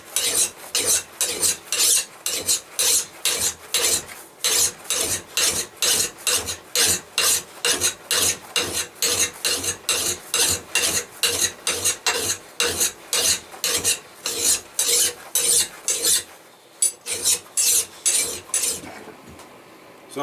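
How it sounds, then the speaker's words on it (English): Hand file rasping along the edge of an old axe head in steady rhythmic strokes, about two per second, loud and close with a brief pause near the end and no talking. "You'll notice I'm filing into the edge and not away from it."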